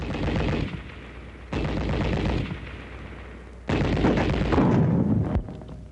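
An anti-tank rifle grenade strikes a sandbagged enemy machine gun position in three loud, sharp blasts, each followed by a decaying rumble and roar, with no talking.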